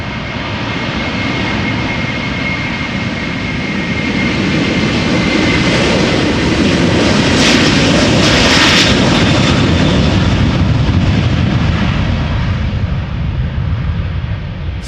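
A Delta Airlines Airbus A330-300 bound for New York JFK takes off, its jet engines building to a loud, sustained roar that swells and peaks midway before easing slightly, heard alone without speech.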